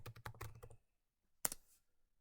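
A username and password are typed on a computer keyboard: a quick close burst of key clicks, a short pause, then a final sharp keystroke.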